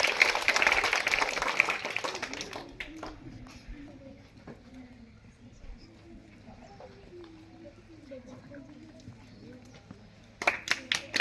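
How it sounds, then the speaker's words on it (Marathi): At a school prize ceremony held by a Ganesh mandal, the audience gives a burst of dense applause for a student, which fades into a quieter hall with a voice speaking. A brief patter of clapping returns at the very end. "सर्वांनी टाळ्या वाजून तिचं अभिनंदन करायचं आहे"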